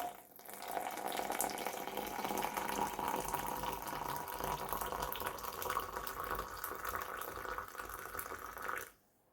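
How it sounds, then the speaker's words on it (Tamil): Steady stream of hot water pouring and splashing into a bowl for several seconds, then stopping abruptly. "இப்போ நான் இதுக்கு தேவையான அளவு சுடுதண்ணி விடுறேன்"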